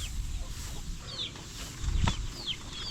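Roosters cluck and call over a steady outdoor background, with a couple of short high chirps and a louder low burst near the middle. The sounds are close and there is no talking.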